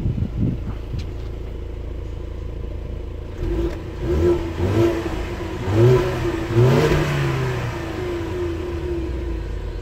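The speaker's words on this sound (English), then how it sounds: "So this one here does not have the active exhaust." A 2019 EcoBoost Mustang without active exhaust revs in short bursts from idle, a moderately loud exhaust note rising and falling several times, heard close with no talking.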